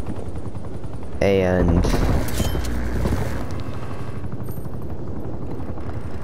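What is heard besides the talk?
attack helicopter firing in Call of Duty Cold War video game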